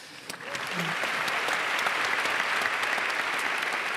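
Audience at a Q&A television broadcast in Melbourne Town Hall during the International AIDS Conference applauding themselves: a full, dense wash of clapping that swells in and holds steady throughout.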